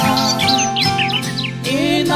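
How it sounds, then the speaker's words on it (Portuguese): Songbirds at dawn in a rural backcountry setting trill and chirp in quick repeated bursts, close and clear, over a sustained tonal musical background. "já posso ouvir os passarinhos a cantar"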